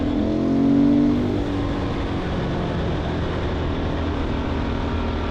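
A Husqvarna off-road motorcycle rides on asphalt, its engine a steady droning hum that swells briefly near the start and then holds an even, close tone.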